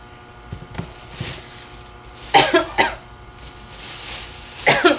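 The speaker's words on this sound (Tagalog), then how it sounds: "inuubo man ako guys" A person coughs several times close up, a few harsh bursts with short pauses between, after some softer throat sounds.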